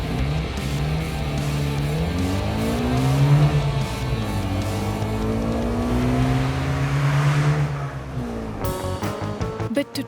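A Trabant car engine revving hard and loud close by, its rough two-stroke drone rising and falling in pitch over several seconds, with brief speech near the end.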